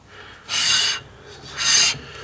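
Two rasping scrapes of new brake pads rubbing against a binding rotor on an S30 front brake upgrade, each about half a second long, loud and close with a short pause between them.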